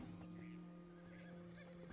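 Horse in the Red Dead RedM roleplay game whinnies with a long, wavering neigh, clear but moderately quiet against steady background game ambience.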